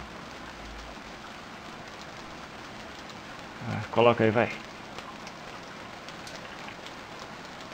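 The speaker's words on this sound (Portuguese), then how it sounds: "Ih, tá chovendo e eu não tenho casa." Soft, steady rain patter in the video game Stranded Deep fills the background throughout, with a brief spoken phrase in the middle.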